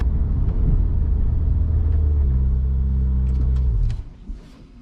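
Ferrari 488 Spider engine droning loudly from inside the cabin as it drives, a steady low rumble that holds with a sustained tone before dropping away near the end.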